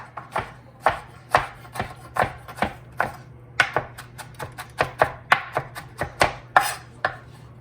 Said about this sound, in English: And chop them up.